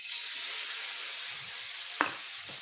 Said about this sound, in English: now we're gonna add our tofu first